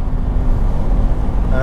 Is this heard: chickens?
no